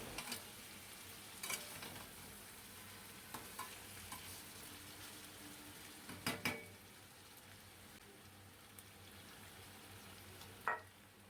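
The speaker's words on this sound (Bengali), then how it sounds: "চিকেনের পিসগুলো খুব ভালো করে ভাজা হয়ে গেছে আর তেল ছেড়ে এসছে" Marinated chicken pieces for chicken chaap fry in oil with a soft, steady sizzle, broken by scattered clinks and scrapes of a spatula against the pan. No one speaks.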